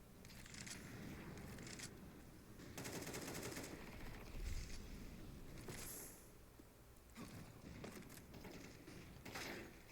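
Rapid AK rifle fire crackles in bursts during a competitive online shooter match, several distinct volleys with gaps between them, moderately distant and faint, no talking.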